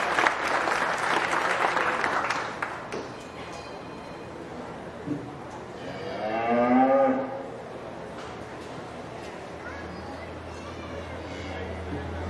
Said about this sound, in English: Give all the exhibitors a nice round of applause.